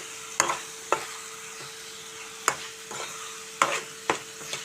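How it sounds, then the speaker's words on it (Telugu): Green chilies and chili powder fry in a pan for prawn curry, producing a soft, even sizzle with distinct spoon taps and scrapes at irregular intervals, close and with no talking. "కొంచెం పచ్చివాసన పోయేంత వరకు వేయించుకొని"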